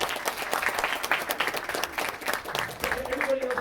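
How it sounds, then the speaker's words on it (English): Audience applause at a college stage hypnosis comedy show, dense steady clapping throughout, loud and close, with a few voices mixed in near the end. "Give her a round of applause."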